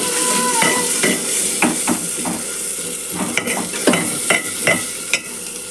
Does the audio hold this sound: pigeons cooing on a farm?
no